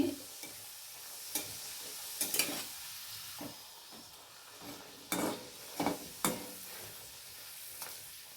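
Urad dal kachoris fry in a modest amount of oil in a wok, a quiet bubbling sizzle broken by several sharp clinks and scrapes of a spatula stirring and turning them.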